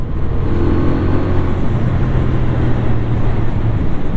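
A CF Moto 450 CL-C bobber motorcycle engine runs at high revs above 5500 rpm, a loud sustained drone with a steady pitch that rises slightly, mixed with wind rush.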